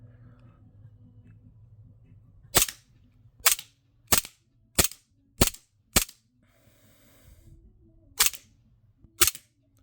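A 1911-style 4.5mm CO2 BB pistol fires eight sharp, loud cracks, spaced roughly half a second to a second apart, over a low background hum.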